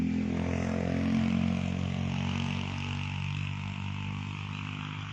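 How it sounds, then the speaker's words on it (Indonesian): An Alcon 3-inch irrigation water pump engine runs steadily outdoors on a chili farm, a loud continuous droning hum with a low throbbing note, holding level for several seconds before easing slightly. "Pengairan kita gunakan mesin Alcon biasa bang"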